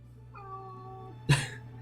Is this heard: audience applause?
no